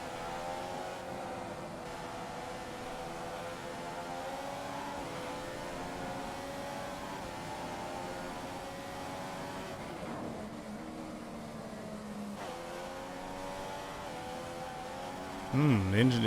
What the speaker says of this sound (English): The engine didn't sound good when I got on the gas there.